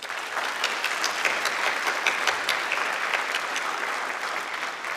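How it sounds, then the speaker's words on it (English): A crowd at a graduation ceremony claps steadily in sustained applause, dense and even, with no voices standing out. "please give a round of applause to our wonderful teachers"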